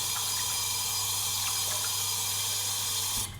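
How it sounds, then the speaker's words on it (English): Running tap water rinsing a straight razor, a steady loud continuous gush that stops abruptly at the very end. "cleaning off the razor immediately"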